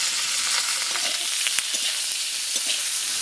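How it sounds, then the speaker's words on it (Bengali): Potatoes and bitter gourd frying in oil with salt and turmeric, a loud close continuous sizzle with small crackles and stirring scrapes, no voices. "কেটে রাখা উচ্ছেগুলো দেবো এখন উচ্ছে আলুর মধ্যে লবণ হলুদ দিয়ে দেবো"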